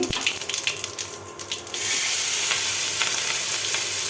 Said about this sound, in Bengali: এখন দিব পেঁয়াজ কুচি